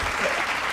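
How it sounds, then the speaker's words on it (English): A short burst of applause on a casual podcast, brief and fairly even, heard alone for under a second. "Let's give them a round of applause."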